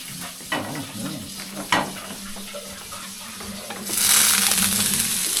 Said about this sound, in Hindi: इधर हो रहा है गार्लिक फ्राई